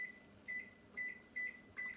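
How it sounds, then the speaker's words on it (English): Microwave oven heating heavy whipping cream, a low steady hum with a tone repeating about every half second, quiet and steady with no talking. "I'm going to stick this in the microwave for about a minute"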